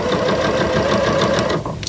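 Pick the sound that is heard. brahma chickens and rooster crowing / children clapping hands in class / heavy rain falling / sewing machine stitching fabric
sewing machine stitching fabric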